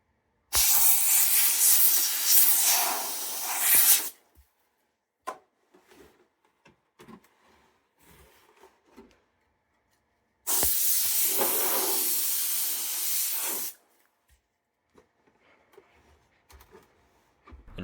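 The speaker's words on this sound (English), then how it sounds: "Our next reoccurring star is the compressed air. Similar to the feather duster, spray around the front ports," A can of compressed air sprays around the front, back and bottom ports of a PS3 console in two long, loud hissing bursts, separated by quiet gaps with faint handling clicks.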